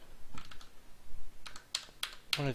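Sparse typing on a computer keyboard with a sticky key, a few soft clustered key clicks with pauses between them, close but quiet against a faint background hiss.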